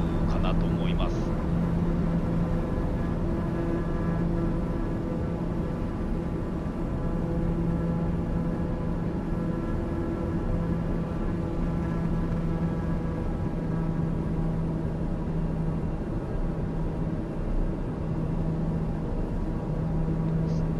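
Steady airliner engine drone from Microsoft Flight Simulator 2020 during a landing approach into Matsumoto, a continuous loud hum with a tonal whine that swells slightly as the engines throttle up, with a voice speaking over it.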